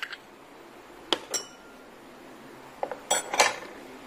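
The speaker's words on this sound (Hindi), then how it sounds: "सबसे पहले हम लेमन स्लाइस को इसमें डालेंगे।" Lemon slices dropped into a glass while making a mojito, giving a few sharp clinks and light knocks at irregular intervals, close by and fairly quiet, with no talking.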